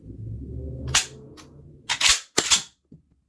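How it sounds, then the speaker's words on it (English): Mossberg 590 ShockWave shotgun dry-fired with snap caps: a low mechanical rumble, then several sharp close clicks and clacks of the action and hammer, the last two loud and metallic, with a faint tick at the end. "that's how you would dry fire with the 590 ShockWave"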